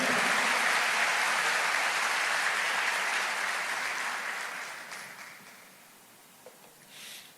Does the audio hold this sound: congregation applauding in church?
yes